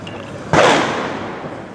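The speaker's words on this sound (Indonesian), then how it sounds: "dengar lagi suara petasan" One sharp firecracker bang, shot into the air at a night street protest outside the Brimob headquarters gate in Kwitang, Jakarta, goes off about 50–70 metres away, loud with a trailing rumble.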